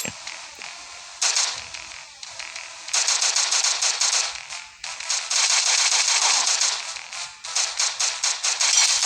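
Rapid bursts of automatic gunfire crackle in the video game Adalet Namluda 2, with short gaps between volleys and sharp repeated shots filling most of the clip.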